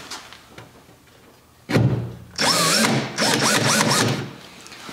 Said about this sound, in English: what I'm gonna do is just mark the door with the drill through the hole.